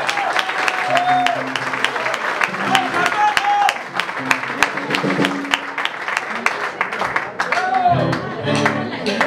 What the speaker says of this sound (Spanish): por favor un aplauso aquí para las programas